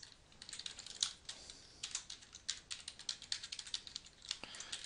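Quick, crisp keystrokes on a computer keyboard, typed in short uneven bursts with brief pauses, close and fairly quiet with no talking.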